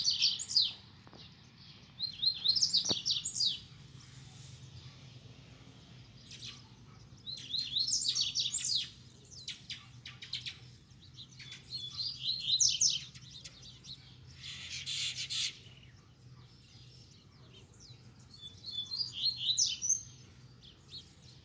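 Two caged double-collared seedeaters sing in bursts of bright, rapid chirping phrases separated by short pauses, fairly clear against a quiet low background hum.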